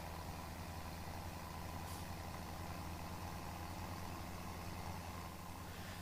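A tractor engine in Farming Simulator 17 runs at full throttle, a steady, continuous drone that stays level and unbroken, with no voices over it.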